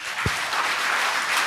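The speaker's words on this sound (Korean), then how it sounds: "박수." A crowd at a lecture for soldiers claps in a brief, dense burst of steady applause with no voices.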